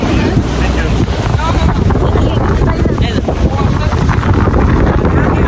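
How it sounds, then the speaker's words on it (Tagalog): Strong wind on a yacht buffets the microphone in a constant, loud roar, with a broad rush of outdoor noise and faint voices underneath. "Kasi ang hangin guys."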